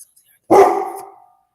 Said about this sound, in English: Nina was barking